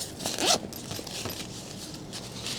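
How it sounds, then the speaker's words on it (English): A zipper is pulled along a portable power station's carrying bag in a quick, close rasping run, followed by soft handling noises. "It zippers up,"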